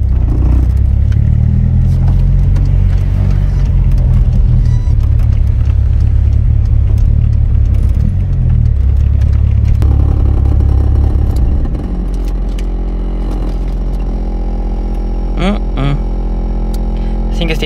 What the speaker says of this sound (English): the first startup on this car is so freaking loud